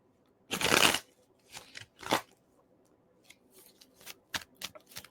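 A Miss Cleo tarot card deck being shuffled, with one long riffling burst up close followed by a few shorter rustles and soft card snaps in a quiet room.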